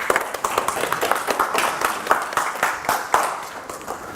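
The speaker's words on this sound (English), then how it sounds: "Give him a round of applause, guys." Audience applause for a volunteer called up at a hypnosis seminar: a dense, steady round of clapping from a room of people, fairly close and sustained throughout with no talk over it.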